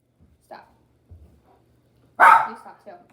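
A puppy lets out one loud, close bark after a couple of seconds, standing out above faint scattered noises and quiet voices in a room.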